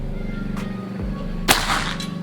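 A PCP Predator Escobar plenum jumbo air rifle fires a single slug, giving one sharp, loud crack over steady background hum and outdoor noise, followed by a brief fading tail.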